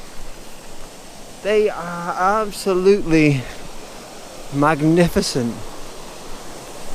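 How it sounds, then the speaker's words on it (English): Waterfall at Lochgoilhead spilling over rocks, a steady broadband rush running throughout, with someone speaking over it in two bursts. "Look at that waterfalls."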